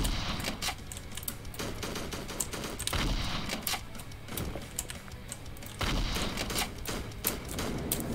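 Gunfire in a horror video game: sharp, irregular shots repeat at close range over a steady noisy background, with no speech.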